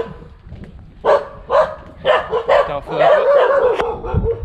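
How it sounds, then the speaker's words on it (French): Several dogs barking and yipping on a hot mountain trail in Thailand, short sharp bursts at close range, with a voice speaking briefly between them. "6 chiens, il y en a devant moi."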